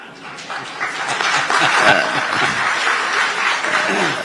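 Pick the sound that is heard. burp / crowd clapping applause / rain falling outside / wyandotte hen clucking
crowd clapping applause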